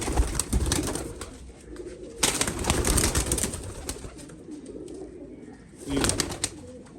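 Pigeons on a rooftop coo in low, throaty rolling calls, fairly close and repeated, with occasional louder bursts and soft rustling, including a prized male pigeon among them.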